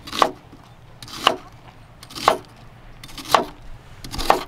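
Onions are chopped on a cutting board at a camp kitchen, five evenly spaced knife strokes about once a second, each a crisp close thud with a wet crunch over quiet background hiss.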